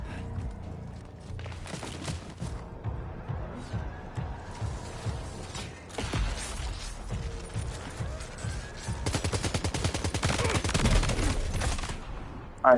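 Gunfire in the video game Death Stranding 2: bursts of rapid automatic shots and scattered single cracks, building into a long dense volley near the end, with a few thuds and footsteps between.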